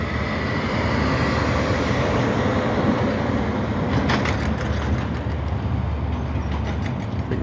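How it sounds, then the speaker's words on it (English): A CSX freight train led by a Norfolk Southern GP switcher locomotive rolls past close by, a loud continuous roar of wheels and rumbling cars with faint rhythmic clatter building toward the end. "Oh, it's a CSX train, but has a Norfolk Southern leading it."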